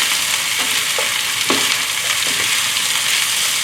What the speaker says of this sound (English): Give them a quick stir.